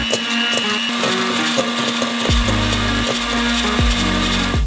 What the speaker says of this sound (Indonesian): Kita kocok dengan mixer sampai menjadi busa yang subur.